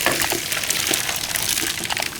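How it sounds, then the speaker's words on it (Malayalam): Curry leaves crackling in hot ghee after mustard seeds, tempering for Kerala kanji: a close, continuous spitting sizzle with scattered sharp pops and a watery hiss, no voices. "കരിവേപ്പില സൂപ്പറായിട്ട് പൊട്ടുന്നു."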